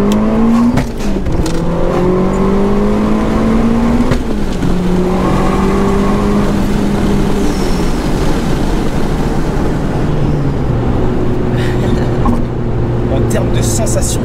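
A turbocharged car accelerates hard through the gears. Its engine note climbs in pitch, drops at each shift, then climbs again, heard loudly from inside the cabin with a constant roar and people talking over it.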